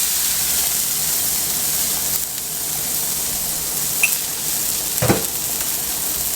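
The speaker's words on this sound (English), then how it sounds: "now we're just going to add just a little bit more oil to the pan just to cook our onions" Onions frying in oil in a pan: a continuous close hiss and sizzle that holds steady throughout, broken by a brief scrape of stirring.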